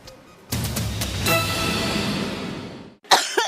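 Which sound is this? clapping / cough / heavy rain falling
cough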